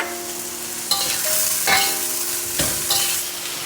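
Peas being stir-fried for Yangzhou fried rice, with a close, steady sizzle and several sharp scraping strokes of the spatula against the wok.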